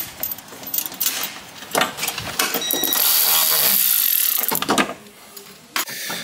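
Ratchet wrench tightening the seatbelt anchor plate bolts on a car body being readied for paint, producing loud rapid clicking bursts and a sustained grinding stretch in a workshop, no speech.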